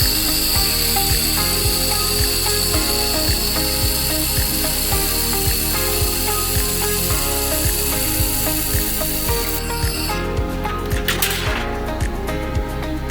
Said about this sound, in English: Firstly, we will show you laser welding.